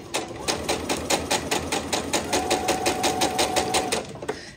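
A sewing machine runs steadily as it stitches a fabric pumpkin coaster off the edge, giving a fast, even train of close mechanical needle clatter for several seconds with no voices.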